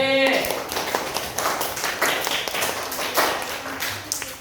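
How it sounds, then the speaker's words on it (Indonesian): A classroom of students applauds a group in a school lesson, a burst of dense claps that runs for several seconds, close and fairly loud, with a brief voice at the start. "Kalau sudah, beri tepuk tangan buat kelompok C."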